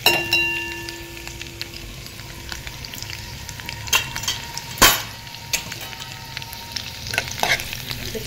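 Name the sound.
garlic frying with mustard seeds and cumin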